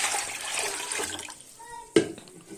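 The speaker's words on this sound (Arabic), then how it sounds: "راح اجيب طنجرة كبيرة اكبر من هاي اللي انا عجنت فيها، وراح نضيف المي" Water runs into a large cooking pot in a home kitchen for Syrian maarouk dough, a steady rushing pour that tapers off and ends with a sharp clunk, with a voice speaking over it.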